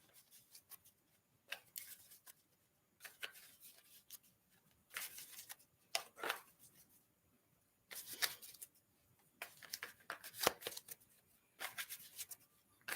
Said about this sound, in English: Let's pull some tarot cards for you